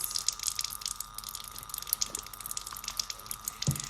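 Water trickling and dripping over a stained microscope slide during acid-fast staining, a faint, close, irregular patter of small splashes with a steady thin stream beneath.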